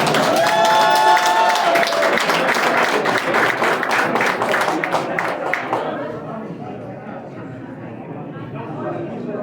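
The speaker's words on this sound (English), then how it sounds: "Give a nice round of applause for our awardee tonight, Dr. Monalisa Ferrari." An audience at an awards evening breaks into sustained applause for an honoree, dense clapping with scattered cheers that gradually thins and fades, a few bright tones ringing over it early on.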